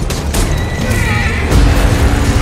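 A horse neighs and whinnies over a dense, rumbling battle soundscape with low booms, the call rising clearly above the din for a couple of seconds.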